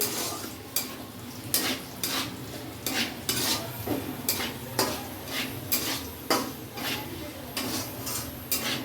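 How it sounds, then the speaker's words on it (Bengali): Whole cardamom, cashews and raisins are stirred in hot ghee in a pan, with a soft sizzle under repeated sharp scrapes and clinks of a metal spoon against the pan at a steady, uneven rhythm. "গোটার ঘির মধ্যে গোটা এলাচ দিয়ে দেওয়া হয়েছে তারপর কাজু কিশমিশ দিয়ে দেওয়া হয়েছে এগুলোকে হালকা করে ভেজে নিতে হবে"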